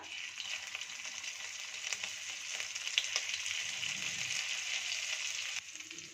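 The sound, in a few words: ginger paste frying in oil with black cumin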